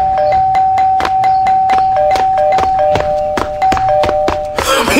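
An electronic doorbell rings loudly with a repeating two-tone chime pattern, accompanied by regular sharp clicks, continuing for about five seconds.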